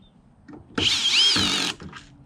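A power drill drives a screw into a kayak mounting plate for an Old Town Sportsman AutoPilot and Minn Kota Power Pole, one short close whirring burst of about half a second between quiet handling sounds.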